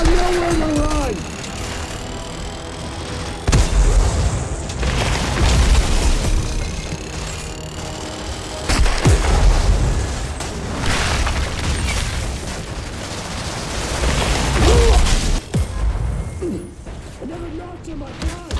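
Explosions from the Outriders video game: several heavy booms at intervals among mechanical clanks and combat noise, loud and close, with a character's voice over the action.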